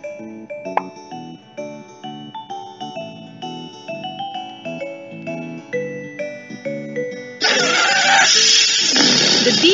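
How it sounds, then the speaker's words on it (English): Air rushes out of an inflated balloon through a bottle cap glued onto a DVD: a loud, steady broadband hiss that begins abruptly near the end, after a stretch of background music, and lasts about two seconds. "The DVD moves because of the air gets released from the balloon."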